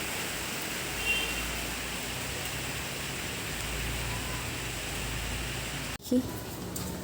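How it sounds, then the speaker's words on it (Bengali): A steady wash of rain hisses throughout, soft and even, ending with a sudden clatter near the end. "সকালবেলা থেকেই মেঘ করেছে বৃষ্টি হচ্ছে"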